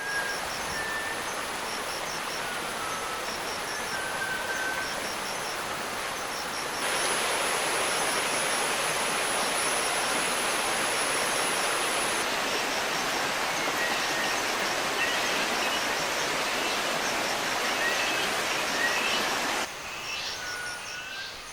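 A natural stream runs through a tea estate in Kuttikkanam, giving off a constant, even rush of flowing water close by, with faint bird chirps scattered above it and no talk.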